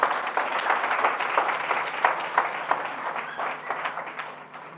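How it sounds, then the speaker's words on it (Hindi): Sustained audience applause with dense clapping for the senior members at a direct selling talk, loud and steady across the whole stretch before slowly tapering off, with no speech over it. "तो जोरदार तालियां सारे सीनियर्स के लिए"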